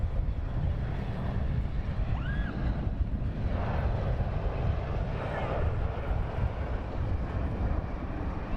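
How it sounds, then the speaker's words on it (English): EasyJet airliner taxiing at London Luton Airport, a continuous jet engine rumble and whine with wind buffeting the microphone, steady and moderately loud, with a brief rising tone partway through. "And the EasyJet is taxiing on"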